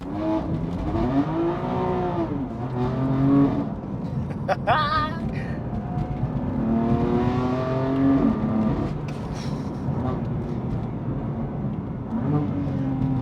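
A BMW M4 with an XHP stage 3 tune and its catalytic converters intact, driven hard. The engine note climbs and falls through repeated revs with exhaust crackle, heard loud and close, and a voice talks at times.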